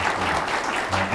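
Applause from an audience at the launch ceremony of a Christian gathering, a steady dense clatter of clapping that fills the whole moment without a break.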